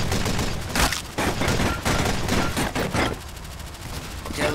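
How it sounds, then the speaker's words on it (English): A shotgun firing in Team Fortress 2, heard as a rapid string of loud, close blasts that continues through most of the moment amid busy combat noise. "This gun is usually supposed to just be a shotgun."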